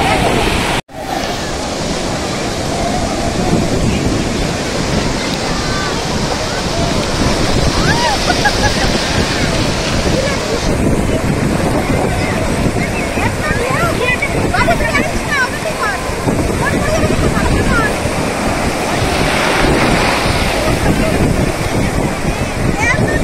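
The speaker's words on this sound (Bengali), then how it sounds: "বিশাল ঢেউ, বলে না পুরীর সমুদ্র" Big ocean waves roll and crash continuously on crowded Puri beach, a loud, rushing surf roar with wind buffeting the microphone and voices talking over it.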